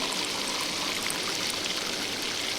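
Water poured into a pot of spiced curry being cooked at home, a continuous bright splashing stream that runs evenly for a few seconds, fairly quiet, with no talking.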